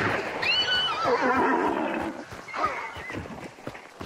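A horse in the video game Hunt: Showdown gives a loud, shrill whinny that rises and falls for nearly two seconds, followed by a fainter second neigh amid game noise.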